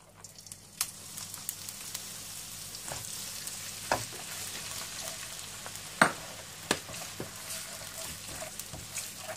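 Onion paste frying in four to five tablespoons of oil for a chicken malai boti gravy, a soft steady sizzle with occasional sharper pops and stirring clicks, no talking.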